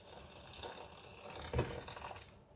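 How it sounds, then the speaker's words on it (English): Water is poured into a pan over pasta for pasta e fagioli, a soft, quiet splashing fill with a brief louder gush partway through. "So let's pour the water in. Pour it till it covers the pasta"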